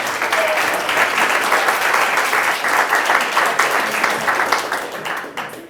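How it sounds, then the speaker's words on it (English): Steady, dense audience applause fills a town hall meeting in Wilmington, North Carolina, honouring clergy members, loud and continuous before fading slightly at the end. "we'd love to give you a round of applause"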